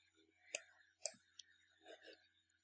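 Computer mouse clicks at a desk, two sharp distinct clicks about half a second apart followed by a fainter third click, with soft faint background sounds in between.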